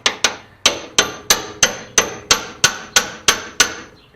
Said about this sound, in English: Keep on hammering away.